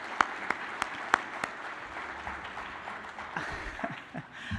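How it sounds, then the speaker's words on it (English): Audience applause at a university gala honoring award recipients, a room of scattered claps with a few sharp nearby hand claps standing out, moderately loud and fading slightly toward the end. "Let's give them a round of applause."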